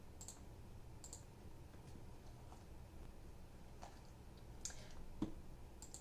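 A computer mouse gives a few faint, scattered clicks, sparse and quiet over a low hum, with no voices.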